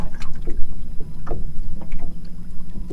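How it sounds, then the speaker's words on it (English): Trolling motor holding a fishing boat in place during perch fishing, a low steady hum close by with faint water lapping and small knocks, no talk. "We got trolling motor on spotlight right now."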